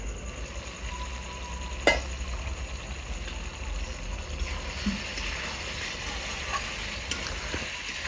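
Chicken kosha frying in a pan, a low steady sizzle with occasional stirring scrapes and one sharp knock early on, a faint hum running underneath.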